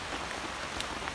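Steady rain falls in a garden, a dense even hiss with occasional sharper drop hits, close and constant, no voices.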